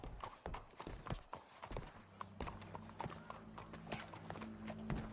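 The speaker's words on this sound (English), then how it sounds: "Go brush that horse" Horse hooves clip-clop steadily in Red Dead Redemption 2, a close rhythmic run of hoofbeats with a low background hum, faint voices briefly mixed in.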